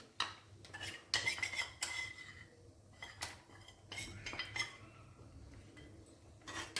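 A spoon scrapes and clinks against a metal pot while a gram flour and soya chunk mixture is stirred into gravy, with irregular clatters and brief squeaks, close and fairly quiet, no talking.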